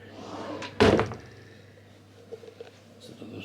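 A single loud wooden thunk near the start, like a large drawer sliding shut in a hotel room, followed by faint room tone and a few small knocks.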